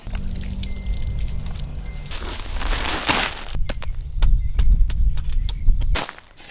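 A bag of questionable potting mix is beaten against concrete outdoors while a raised garden bed is built, giving a run of dull thumps and slaps over rustling soil that grow louder toward the end.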